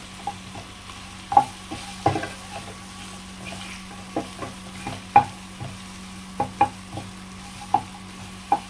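Sweet-sour-spicy mango pickle being stirred in a pan, a soft steady sizzle under scattered clicks and scrapes of a spoon against the pan at an uneven pace, close and fairly quiet.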